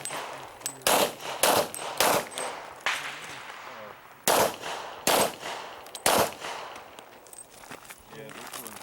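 Pistol shots ring out at an IDPA pistol match, a string of sharp loud cracks in quick pairs and clusters with short pauses between, echoing on an outdoor range, with quiet voices in the background.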